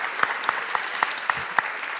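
Sparse applause from a forum audience, with a few distinct claps standing out at a steady pace over a light room wash, heard from a moderate distance.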